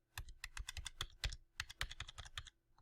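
Arrow keys on a computer keyboard pressed in quick irregular bursts to steer through a game, sharp close plastic clicks in two runs separated by a brief pause, with no talking.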